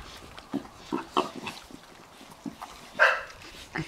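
Javelina piglets feeding on scattered bird seed, making short scattered grunts and snuffles at moderate distance, with one louder squeal near the end.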